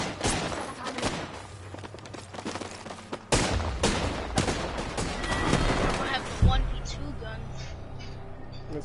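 Combat in an online shooter video game: bursts of gunfire crackle and pop at varying distances, with a few sharp loud shots standing out, under steady voices talking throughout.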